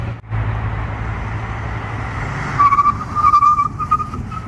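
A 2019 Mitsubishi Mirage with slotted, drilled rotors and ceramic pads brakes hard, a steady road rumble giving way to a rising tire squeal and squeaks over the last two seconds.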